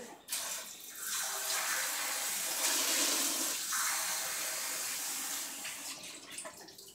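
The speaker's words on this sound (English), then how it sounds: "I'm going to rinse this out right away so that nobody touches it or gets burned." Tap water pours into and rinses out a hot cooking pan during cupcake baking, a loud, close, continuous splashing rush with no talk, swelling in the middle and fading at the end.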